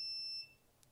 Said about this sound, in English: it beeps like this